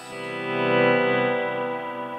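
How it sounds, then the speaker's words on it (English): Electric guitar note washed in reverb and delay, a sustained distorted tone swelling and then lingering as a long, smooth tail after the volume pedal drops the signal, heard alone without talk. "The reverb and the delay kind of let the signal, enable the signal to kind of carry even after I drop my volume down."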